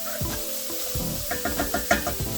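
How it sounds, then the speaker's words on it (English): Chopped onions sweat in a pan with a soft sizzle, broken by a series of rhythmic scraping stirs that grow more frequent toward the end, close up with no talking. "So let the onions sweat out."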